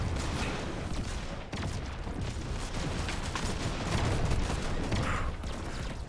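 Sustained, dense video game gunfire in a match with a cheater, loud and continuous with rapid shots and mechanical clatter blending into a steady barrage.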